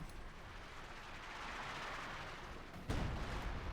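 Howitzer artillery in the game Company of Heroes 2, a distant rumbling barrage with a sudden heavier boom near the end, dense and noisy without clear separate shots.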